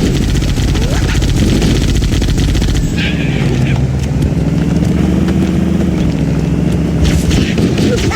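Rapid bursts of gunfire in Halo Combat Evolved chatter loudly over a dense rumbling game soundscape, with engine-like drones and shouted voices mixed in.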